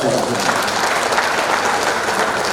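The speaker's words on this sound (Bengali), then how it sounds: "সেই জন্য আবারও একটি তালি আশা করতেছি।" Steady, dense applause from a crowd fills the whole stretch, loud and continuous without a break.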